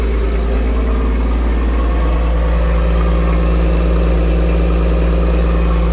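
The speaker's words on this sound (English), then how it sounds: "Fuel exhaust from a Porsche 911." A deep, steady 2004 Porsche 911 engine idle rumbles close by, a constant low throbbing exhaust note with no change in speed.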